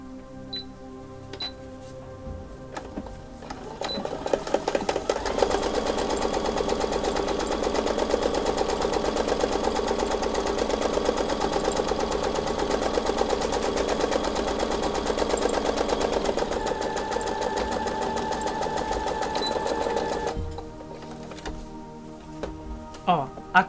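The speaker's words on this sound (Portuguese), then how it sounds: "eu vou fazer essa costura guia dos dois lados." A sewing machine runs a guide seam along a fabric headband, a steady close whirring that runs for about fifteen seconds, with faint clicks of handling before and after.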